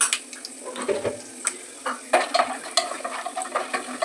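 Chana dal sizzles as it fries in oil in a pan, with a spoon scraping and clinking against the metal as it is stirred, a steady close hiss broken by irregular knocks.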